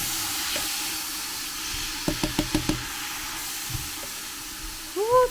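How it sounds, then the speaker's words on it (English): A spoon scrapes and clicks in a pot of Louisiana gumbo seasoned with Guidry seasoning, a quick run of knocks against the pot over a faint simmering hiss, then a short clatter near the end. "Stir it all up."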